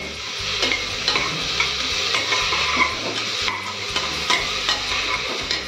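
Chopped onion with a spoonful of salt sizzles in a pan while being stirred, a steady frying hiss broken by rhythmic scraping strokes of the spoon, close and fairly loud, with no talk.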